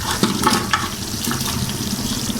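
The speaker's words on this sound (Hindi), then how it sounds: "ये 3 किलो गोश्त मैंने फ्राई कर लिया था, इसको भी इसमें शामिल कर देते हैं।" Three kilograms of fried mutton go into a korma gravy with a few wet, heavy plops and splashes, then a soft bubbling and sizzling simmer, close and fairly loud.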